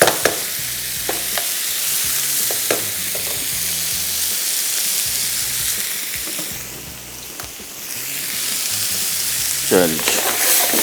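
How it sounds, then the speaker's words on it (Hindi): Chicken pieces lightly frying in a pan, a steady sizzle broken by repeated scraping stirs and soft clatter, fairly loud and close, with no clear talking. "इसको हमने हल्का सा फ्राई करना है।"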